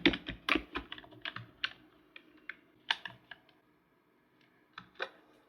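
Someone types on a computer keyboard, writing a Python program, with close, crisp key clicks that come in quick bursts and then thin out to a few scattered presses toward the end.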